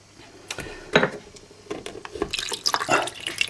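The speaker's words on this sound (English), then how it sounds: "And there's the water flowing in." Water gushes into a small model canal lock as the paddle is opened. The splashing comes in irregular close bursts that grow busier toward the end, with no voices.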